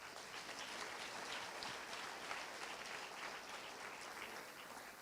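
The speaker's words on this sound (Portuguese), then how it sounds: "O ex-padre Renato está aplaudindo Jesus" Congregation in a church applauding, a steady wash of many hands clapping at once, evenly sustained and fairly distant, with no voices standing out.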